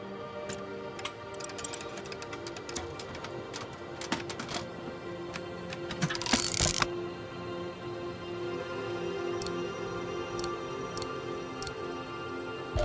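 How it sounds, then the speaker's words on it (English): A crank mechanism turned in the video game Syberia, a run of rapid dry mechanical ticks and clicks, with a brief louder grinding burst in the middle and sparser clicks afterward, close and alone. "I think I can turn the crank now."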